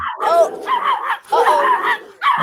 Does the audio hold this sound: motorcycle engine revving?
no